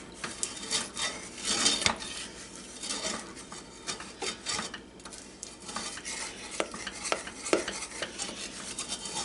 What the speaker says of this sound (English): Blend that well, make sure you get it all blended in.